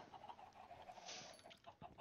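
Chickens in the video game Whirling Phenomena cluck softly in a brief burst of short, repeated bird calls over a low background hum, with no talking.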